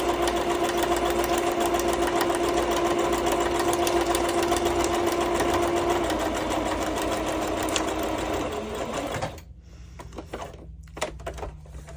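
A sewing machine runs a zigzag stitch down the center of a fabric music page, a close, steady mechanical whir with a fast, even needle rhythm that stops near the end, leaving a few faint clicks and handling sounds.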